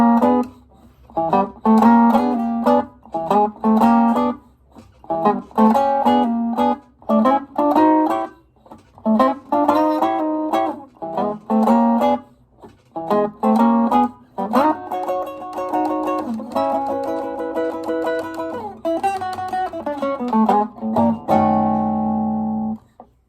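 A full verse of Chicago blues on electric guitar: choppy chord stabs with rhythmic gaps, sliding chord changes, then a final chord left ringing, played close with no voices.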